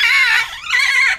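Monkeys in a cage at London Zoo give loud, shrill whinnying calls, two close rising-and-falling cries in quick succession with no talk over them.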